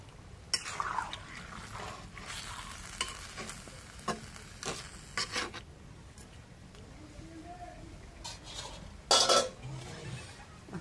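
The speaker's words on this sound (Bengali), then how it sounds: "এখন মাছ দিই তরকারির মধ্যে।" Chital fish going into a pan of curry, with stirring, light sizzling and utensil clinks against the pot, moderately close, and speech heard now and then between the kitchen noises.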